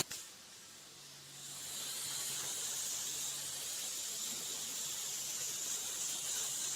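Water sprays onto a car's painted surface to rinse off stuck dirt and pollen, a steady hissing rush that starts after a brief knock and continues evenly, fairly faint, with no voices.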